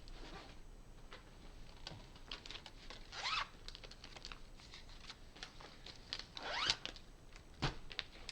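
A cross-stitch card slid back into its zippered bag, with quick rustling plastic and two distinct zipper pulls, close and quiet, mixed with light handling taps and crinkles.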